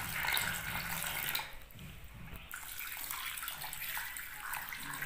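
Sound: water being poured into a pot

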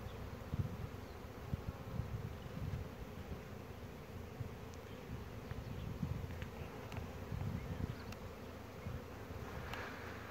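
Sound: honey bees buzzing around a blooming cherry plum tree

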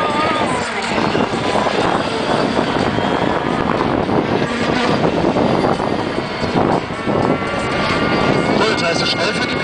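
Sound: racing powerboats passing

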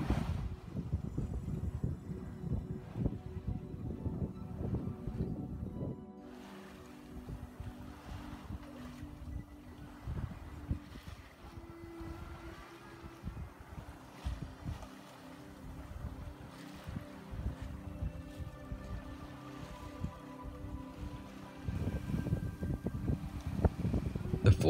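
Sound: Island Packet 420 sailboat sailing in wind on a beam reach

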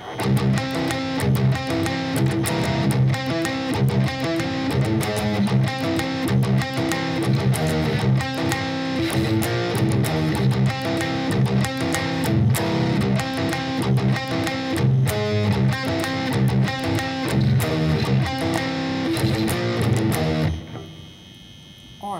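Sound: electric guitar riff in drop tuning

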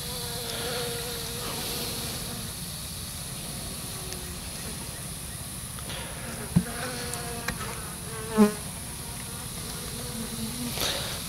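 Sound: honeybees buzzing during swarm trap inspection

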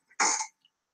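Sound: cough

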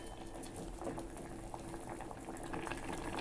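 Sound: pumpkin mushroom soup boiling

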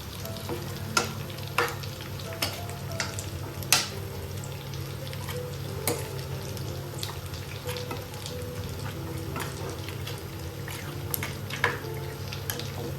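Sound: mixing fish head into frying masala

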